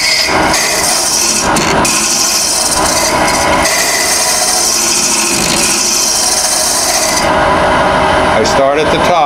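A cutter hollows out a piece of dried, hard wood on a lathe, giving a steady, loud scraping and grinding that runs continuously with small shifts in tone as the tool moves.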